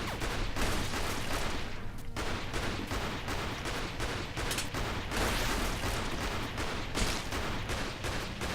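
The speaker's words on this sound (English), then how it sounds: "He's firing projectiles at me." Rapid bursts of projectile fire from a plant enemy in the dungeon-crawling video game Zombie Party, a dense, continuous barrage of gunfire-like shots throughout, loud and up close with no talking.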